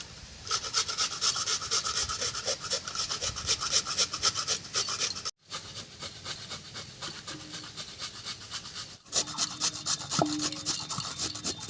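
Peeled, washed radish rubbed back and forth against a metal grater in a home kitchen, giving a steady rasping scrape in quick repeated strokes, close and fairly loud, with two short pauses and no talking.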